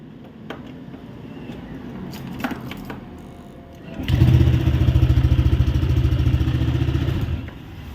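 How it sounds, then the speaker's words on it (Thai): A Honda scooter engine, freshly valve-adjusted, idles quietly with some clattering, then revs up loudly and steadily for several seconds before settling back down, close by. "เสียงเครื่องยนต์เงียบปกติแล้ว"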